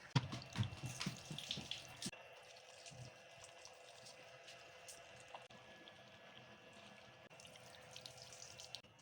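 Grated potatoes rinsed in a jug of water while making crispy lacha aloo pakoda, with faint splashing and tap-like running water, busier at the start and near the end.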